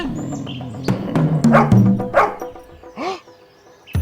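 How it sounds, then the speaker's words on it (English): A cartoon dog in a children's bedtime story growls, snarls and barks in a series of loud, close yips and barks over background music. "Let me growl, snarl, and bark at them."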